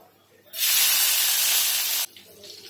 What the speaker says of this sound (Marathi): आपण इथे आमटीला फोडणी टाकून घेऊया मसाला जो कुठून घेतला आहे ना मिरची आलं आणि जिरं तर ते टाकून घेऊया